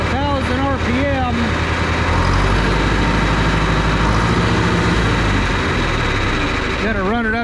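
Tractor engine running up to about 1,000 RPM, a steady close throbbing drone that rises and holds, with a voice talking over it at the start and end.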